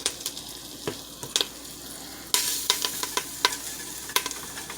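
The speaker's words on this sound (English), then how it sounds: "we're going to throw some curry at the bottom because we want that to brown" Garlic, curry powder and cumin fry in a pan, a continuous close sizzle broken by sharp scraping stirs and light clinks, getting a touch louder partway through, with no one talking.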